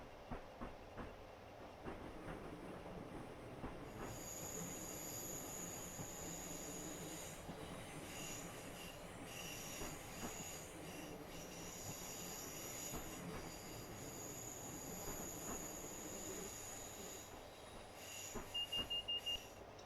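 A Class 465 electric train runs on the London–Faversham high-speed line, its steady rolling rumble carrying high wheel squeal and faint clickety-clack throughout, with a brief beeping warning tone near the end.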